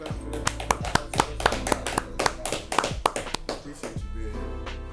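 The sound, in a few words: people clapping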